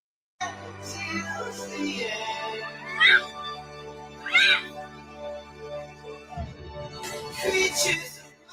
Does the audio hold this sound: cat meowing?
yes